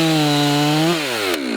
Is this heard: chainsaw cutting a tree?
yes